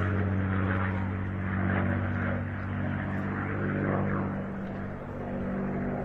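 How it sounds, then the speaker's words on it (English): Rolls-Royce Merlin-engined warplane making a ground-attack pass at an air show, a loud steady propeller drone with deep harmonic rumble that swells and eases slightly as it goes by. "there is the sound, the music of the Merlin engine"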